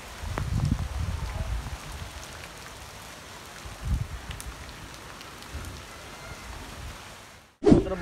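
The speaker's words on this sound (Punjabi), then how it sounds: "ਉੱਤੋਂ ਬਾਰਿਸ਼ ਆ ਰਹੀ" Rain falls steadily outdoors during an Eid ul-Azha gathering, a soft continuous hiss with a few louder bursts of close patter, and a brief sharp noise near the end.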